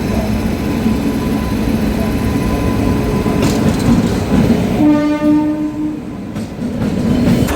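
The Titlagarh Express pulls into Kharagpur station with a loud, steady rumble of rolling wagons, and a sustained horn tone sounds partway through.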